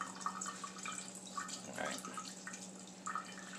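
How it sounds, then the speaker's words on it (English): Kitchen tap water trickles gently while raw, half-frozen chicken is rinsed under it, a faint, steady splashing with small irregular spatters close to the sink. "so trickle the water, don't put it super high"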